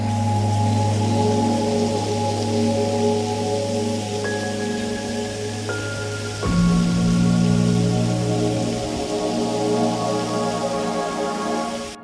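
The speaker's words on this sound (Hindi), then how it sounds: "अब बारिश हो रही है" Constant heavy rain roars with a dense hiss at a waterfall near Udaipur during the monsoon, steady for the whole stretch, while low droning tones hum beneath it.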